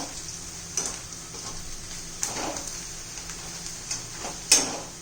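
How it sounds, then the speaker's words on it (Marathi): Cluster beans sautéed in a pan with coriander powder and turmeric, a steady sizzle punctuated by several scraping stirs, the last one loudest, heard up close. "अर्धा चमचा धना पावडर थोडीशी हळद छान असं परतून घेऊया आपण"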